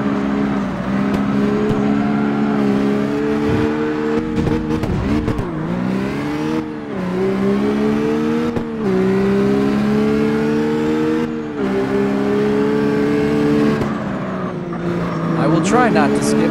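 A racing car engine from the street racing game CarX Street drones at high revs, pitch rising and dipping with gear shifts during a time attack lap, loud and continuous throughout.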